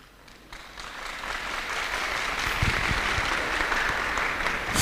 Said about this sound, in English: We are going to give the minister a million clap.